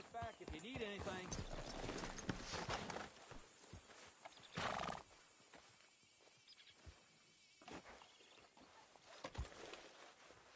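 A horse in Red Dead Redemption 2 snorts and whinnies amid clopping hooves and buzzing insects, with people talking over the sounds.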